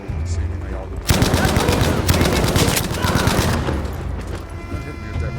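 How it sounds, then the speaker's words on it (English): Rapid, loud machine gun fire in the video game Battlefield V, solo campaign, as a dense sustained burst lasting a few seconds with scattered battlefield noise before and after. "That hit me with that machine gun."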